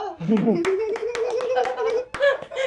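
A few sharp, scattered hand claps ring out over people talking and laughing close by.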